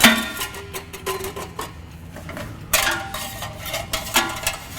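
A Roush stainless steel exhaust intermediate pipe for a 2015-2016 Ford F-150, fitted into its hanger and flange: close metallic clanks, scrapes and taps in irregular bursts.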